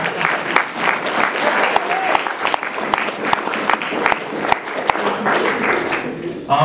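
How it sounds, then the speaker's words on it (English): A school sports banquet crowd applauds the bowling team, with continuous clapping from many hands in an indoor hall, loud and sustained throughout. "You guys try to get a clap for the bowling team."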